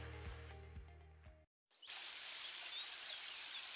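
Steady synthetic rain hisses in a fishing video game, beginning abruptly after a short musical phrase and a moment of silence, then continuing as a dense, even wash.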